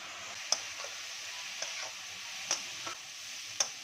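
Flattened rice (chira) being stirred in a pan with dissolved sugar for a vegetarian chira polao: a steady soft sizzle with a few sharp spoon taps and scrapes at irregular intervals, no voices.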